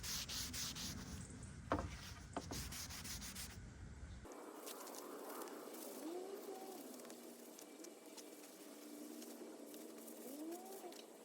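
A rag rubbing wood stain into a wooden park bench outdoors, a soft repeated scraping swish that continues steadily, with faint bird calls in the background.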